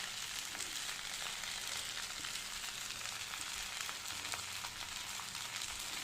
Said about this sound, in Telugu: ఇప్పుడు స్టవ్ని అయితే హై ఫ్లేమ్లోనే పెట్టుకొని కాసేపు ఇట్లా కలుపుకోవాలి